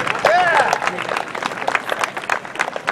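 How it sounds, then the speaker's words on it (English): Audience applause after an introduction at a Music for MS event, with dense, steady clapping from a crowd at moderate volume and a brief whistle near the start. "one quick round of applause to the Music for MS organization"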